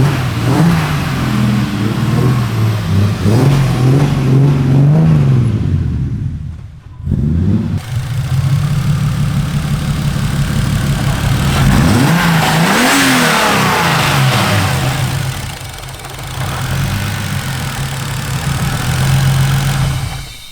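A turbocharged BMW S50 engine in an E36 car revs hard on a dyno, climbing through long loud pulls with a brief cut and drop near the middle before rising again, close and continuous with no talk.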